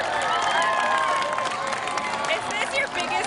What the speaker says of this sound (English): Look at this crowd behind you.